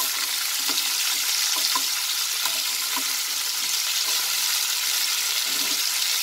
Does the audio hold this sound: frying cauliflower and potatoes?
yes